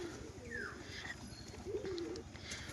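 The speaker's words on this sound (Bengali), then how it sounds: "ডাক করবে দেখুন পায়রাটা" A male Rampuri pigeon coos in a couple of rolling, throaty calls close by, with brief faint chirps and background hiss between them.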